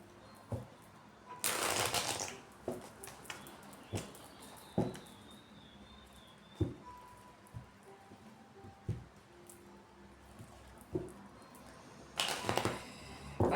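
Tarot cards being shuffled for a reading, with two bursts of riffling at the start and end and soft card taps and handling noises between, close and clear with no talk.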